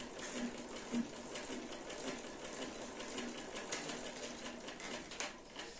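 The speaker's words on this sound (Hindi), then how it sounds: "इसको हम एहतियात से अपनी सिलाई को कंप्लीट करेंगे इस कोने तक।" A sewing machine runs steadily, stitching the side slit and hem of a shirt with a continuous close whirring chatter. It ends with a sharp clunk.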